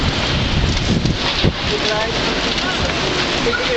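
Strong storm wind roars steadily with heavy rain noise, buffeting loudly and continuously throughout.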